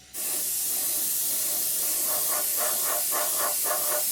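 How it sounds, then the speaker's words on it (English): Airbrush spraying primer over a 1/72 scale Revell Transall model kit, a steady close hiss starting abruptly and holding constant, with faint pulsing bursts toward the end. "spray this over the entire model."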